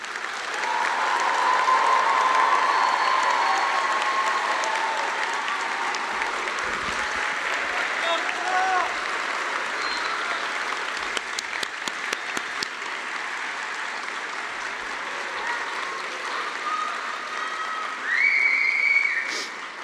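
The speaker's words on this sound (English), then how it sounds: "huge round of applause." Applause and cheering fill a hall at the Rutgers RWJMS White Coat Ceremony, a big sustained ovation with scattered whoops and whistles. It fades slightly midway, then swells again with a shrill whistle near the end.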